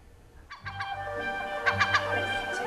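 Seagulls in Brighton and Hove call with repeated sharp cries, a few early and a louder cluster later, over a low background rumble.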